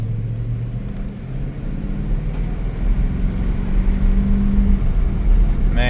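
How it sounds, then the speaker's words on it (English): V8 engine of a second-generation Toyota Tundra during a night drive, a steady low rumble with a mild rise in revs, heard from inside the cab with no talking. "Man, that V8 sounds so good."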